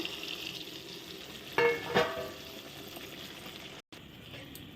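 Spiced water poured into a pan of frying hilsa fish sets off a steady sizzle, with a brief splashing pour and a short clatter as it goes in, fairly quiet and without talk.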